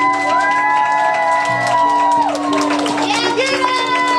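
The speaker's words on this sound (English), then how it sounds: "Students and staff at Green Elementary lining the halls, dressed in his favorite color, cheering, clapping, and celebrating a boy" Students and staff at Green Elementary line the school halls, cheering and clapping in a loud, continuous crowd roar with children's shouts, while music or voices ring over the top.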